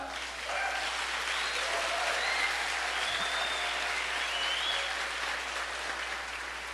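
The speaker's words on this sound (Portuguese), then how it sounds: "Pode aplaudir ao Senhor." A church congregation applauds in praise, steady, full clapping rising quickly from near silence and sustained loudly with faint voices mixed in, easing slightly toward the end.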